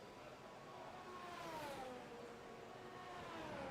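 An Alpine Formula 1 car engine in the video game F1 25 whines at high revs, pitch sweeping up and down in a sustained, steady drone without talking.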